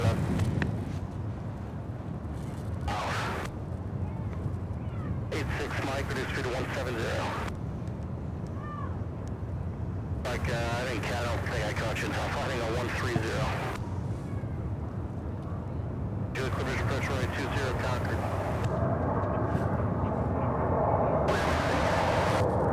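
American Airlines Airbus A321 arriving from Cancun on runway 36 right at Charlotte-Douglas, a sustained jet rumble running under intermittent talk across the whole stretch, with the engine noise holding steady.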